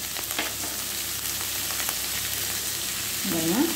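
Country chicken curry base sautéing with table salt in a pan, a dense continuous frying sizzle close by, with faint stirring movements and a slight swell near the end.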